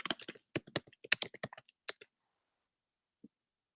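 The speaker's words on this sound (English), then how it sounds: "Okay, so I typed the password." A password typed on a computer keyboard: a quick run of crisp, irregular key clicks for about two seconds, then silence broken by one faint tap, close and fairly quiet.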